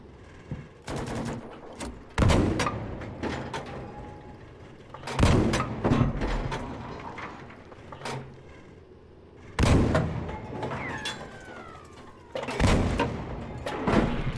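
Gunfire in the shooter game Battlefield 5: several loud, sharp bursts and single shots break out in clusters across the clip, with distant booms and a rumbling battlefield background between them.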